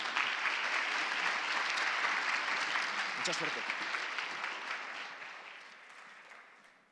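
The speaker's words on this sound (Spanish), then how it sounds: "Así que os pido un grandísimo aplauso para Gemma Raval." A hall audience gives speaker Gemma Raval a dense, steady round of applause at the OGMIOS 2019 event, holding loud before tapering off toward the end, with a brief voice heard over the clapping.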